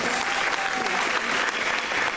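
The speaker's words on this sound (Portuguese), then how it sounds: "Vamos dar uma salva de palmas ao nosso Deus." A church congregation claps steadily and densely throughout, a full round of applause filling the room without pause.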